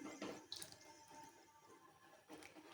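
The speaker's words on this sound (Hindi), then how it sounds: "हमने इतना पानी डालना है कि गोश्त इसमें अच्छी तरह से गल जाए।" Water poured from a vessel into a pot of mutton for malai handi, a soft splashing pour at close range with a second brief burst near the end, no talk.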